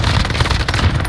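Rapid gunfire in the shooter game Rebirth, dense, overlapping shots filling the moment at close, loud range with a busy game mix beneath.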